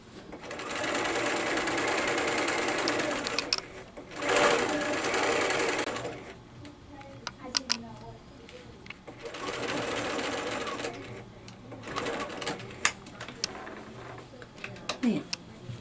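A sewing machine runs in steady bursts as it stitches a quarter-inch collar seam on a wrap-around yoke, with back stitching at each end, and pauses fall between the runs of stitching.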